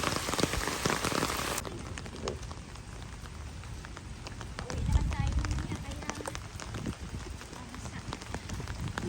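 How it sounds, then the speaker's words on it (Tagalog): Heavy rain pours steadily, a dense close patter across the whole stretch, with voices talking over it now and then. "Ala, lumakas ng ulan."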